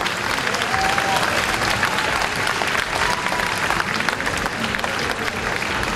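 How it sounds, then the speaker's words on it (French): Applause from a convention audience after a talk on stage, a thick continuous wash of clapping with faint crowd murmur, fairly loud and even throughout. "On les applaudit encore."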